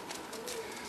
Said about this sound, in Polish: Przepiękny gołąb, siedzi tutaj młody gołąb w wolierze.